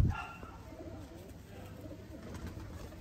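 Golden pigeons coo faintly in their enclosure, low soft murmuring calls repeating over quiet background noise.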